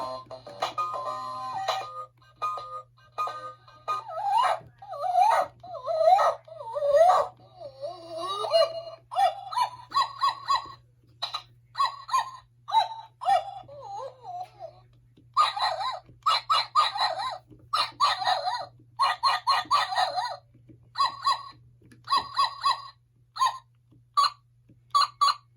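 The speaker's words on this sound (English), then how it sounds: "if you hold the nose, it'll go through the sound test" iDog robot toy dog running through its sound test mode, playing a string of short electronic barks, chirps and synthetic tones one after another, close and fairly loud, with a steady low hum underneath.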